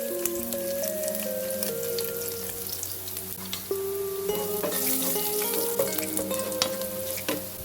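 Onion fries in a pan for pancit bato, a steady close sizzle with crackling pops and stirring noises throughout.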